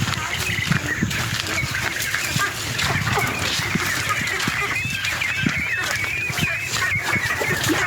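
A shed full of ducks on an integrated farm with an indoor pond, giving a constant, busy mix of quacks, calls and wing flapping, fairly loud and close throughout.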